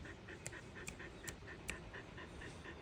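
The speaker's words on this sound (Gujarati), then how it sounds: "બાપુના કૂતરા અહીંના આશ્રમના." Dogs at a seaside ashram pant in quick, even breaths, soft and steady, repeating rhythmically against a quiet background.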